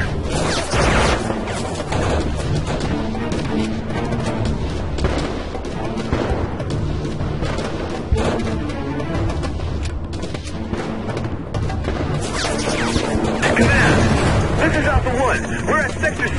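Dense gunfire and explosions in the war shooter Heavy Fire: Afghanistan fill every moment as a loud, continuous barrage of automatic bursts and booms, with voices talking over the fighting.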